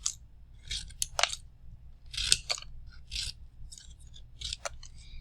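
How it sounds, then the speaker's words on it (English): Scissors snip paper into tiny scraps as a child practises cutting, giving a string of short, crisp, irregular snips and paper rustles, close and clear with no talk. "Let them practice cutting. Let them cut these things into as many teeny tiny little pieces of trash."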